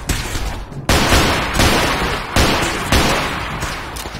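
Repeated gunfire from shooting enemies in Fallout 4, loud bursts landing about every half to three quarters of a second, each shot sharp and booming with a crackling tail, no talking over it.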